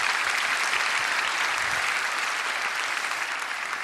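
Steady, dense applause from a young adult prayer meeting congregation fills the room evenly throughout, a continuous wash of many hands clapping with no talk over it.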